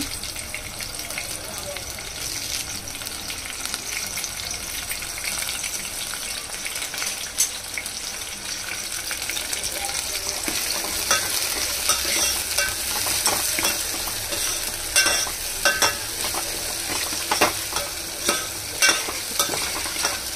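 Green chilli, onion and curry leaves frying in a pan for egg tomato curry, a dense continuous sizzle growing livelier with regular stirring scrapes toward the end.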